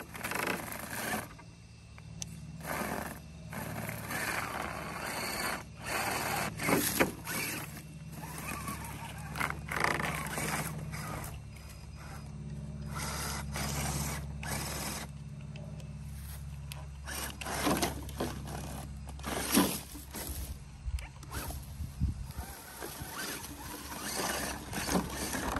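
A Laegendary Grando 1:10 scale RC crawler grinds over logs outdoors in low gear, its motor whirring steadily while the chassis rubs and scrapes against wood throughout, with no talking.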